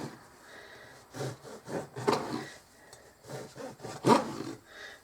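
A knife saws through a loaf of sourdough bread in several rough, rasping strokes, close and fairly quiet, with bursts of crusty scraping between brief pauses.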